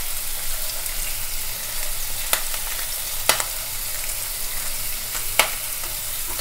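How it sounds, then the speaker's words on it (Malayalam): Ingredients for a creamy white cheese pasta sauté in a pan over a high flame, giving a steady close sizzle broken by a few sharp clicks and scrapes of stirring. "ഹൈ ഫ്ലെയിമിൽ വെച്ചിട്ടാണ് ഞാൻ വാട്ടിയെടുക്കുന്നത്."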